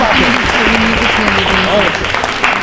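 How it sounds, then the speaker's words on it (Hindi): Loud audience applause at a Rajasthan state-round election quiz show, dense and continuous for a couple of seconds with a voice speaking over it. "तालियां जोरों से बजाइए, जोरदार तरीके से"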